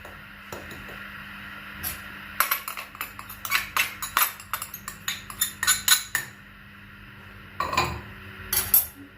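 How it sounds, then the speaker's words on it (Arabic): Metal spoon clinking and scraping against a bowl while Oreo cake batter of flour, cocoa and baking powder is stirred, a quick run of close, bright taps in irregular bursts with a short pause before a final flurry. "هنقلب بقى كل المكونات دي مع بعض"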